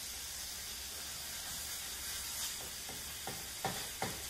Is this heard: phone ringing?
no